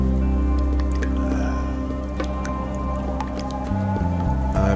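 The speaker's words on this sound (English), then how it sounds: "I better find something to catch the water." Water dripping from a leak inside a house in the mystery game The Flower Collectors, a steady patter of drops and wet splashes over a low ambient drone, close and fairly loud.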